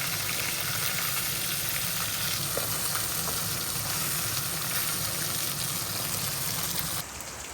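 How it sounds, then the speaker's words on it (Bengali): Pieces of rohu fish fry in hot oil, giving a steady close sizzle and crackle with occasional stirring sounds, continuous for several seconds before the level drops slightly near the end. "এই যে মাছ ভাজা হয়ে গেছে"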